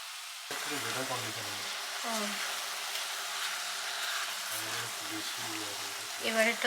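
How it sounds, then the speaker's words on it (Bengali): Mushrooms, garlic and spinach frying together over high heat in a pan, a steady broad sizzle that runs throughout with no break. A voice is heard talking over it at intervals. "এবার ওই জোর আছেতেই ভালো করে সবগুলো মিশিয়ে মিশিয়ে ভাজা"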